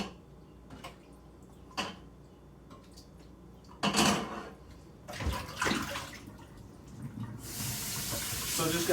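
Running tap water splashes over an 8x8 baking pan being washed in a sink, with intermittent bursts of rinsing and a steady flow building toward the end, close and moderately loud.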